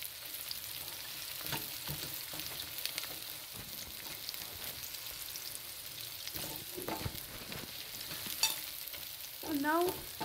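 Browned onions frying in a pan are stirred, producing a soft, continuous sizzle with occasional scraping and clinking from the utensil, fairly quiet and without talk.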